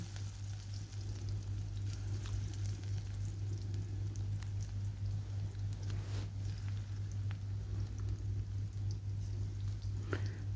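Spinach pakora batter frying in hot oil gives a dense, continuous sizzle with a low hum beneath it, close and steady throughout with occasional faint taps, no voices.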